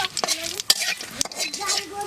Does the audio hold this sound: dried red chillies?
yes